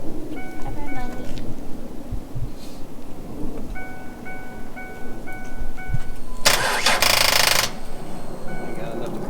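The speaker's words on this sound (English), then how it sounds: "The battery's so dead it won't hold it long enough to crank it." A car with a dead battery cranks sluggishly during autocross project work, churning in repeated slow bursts. A louder, harsh burst of noise cuts in briefly near the middle.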